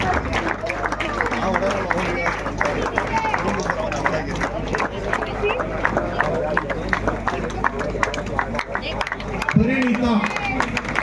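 Clapping rises from the audience at the prize ceremony of a state women's T20 cricket tournament won by the Bengaluru team. Steady applause runs the whole length with crowd chatter and a voice talking over it.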